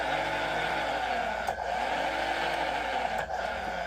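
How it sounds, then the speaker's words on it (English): An RV slide-room motor run through an Intellitec 8-pin slide controller adapter on a technician's test bench whines in a steady, loud drone, with two brief dips where it changes direction, and no talk. "that's going to make the room motor move back and forth"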